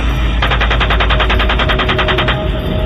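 Rapid machine-gun fire rattles in one loud sustained burst of about twenty evenly spaced shots, close and alone.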